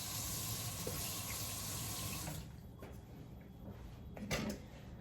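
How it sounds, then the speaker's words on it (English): Kitchen tap water runs steadily over a spatula being rinsed in a sink while a turkey dinner is prepared, a loud continuous splash that softens partway through with a few small clatters near the end. "we're gonna rinse off our spatula"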